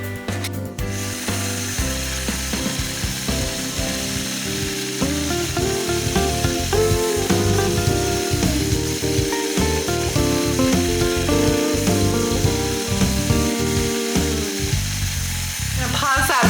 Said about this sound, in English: this is my Statler Stitcher now, and it's doing the machine quilting, the stippling